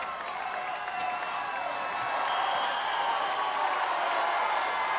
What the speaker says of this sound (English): everybody here in Gladiator Arena on their feet.